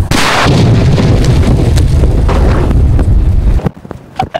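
Huge close blast of a nattu vedi country firecracker, a deep booming explosion that rumbles and rolls for several seconds before decaying, followed by a few sharp smaller pops.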